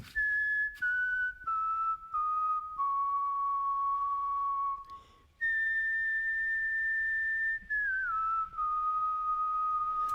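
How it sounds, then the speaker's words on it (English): A person whistles a simple song-hook melody in a recording, sustained clear pure tones stepping down in pitch over several phrases, close and clean with no other sound. "we've got this at the top of the song, which is a very, very simple whistle, which is more like an effect."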